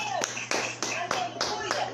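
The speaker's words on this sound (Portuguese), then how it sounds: "Vamos aplaudir o Senhor." A church congregation claps hands in praise during a worship service, sharp rhythmic claps at a steady beat of about four per second, moderately loud and fairly close.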